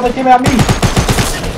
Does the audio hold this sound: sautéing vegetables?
no